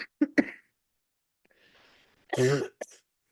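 A few short coughs up close, then a quiet pause with faint breathing, followed by a harsher, longer cough and a final small one.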